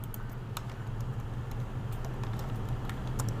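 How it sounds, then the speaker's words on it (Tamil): Fingers tap out a quick run of keystrokes on a computer keyboard, light clicks scattered over a steady low hum. "ஸோ கூகுள் சர்ச்சில் போயிட்டு நேட்டிவ் ஆக்சஸ் டைப் பண்ணுவோம்."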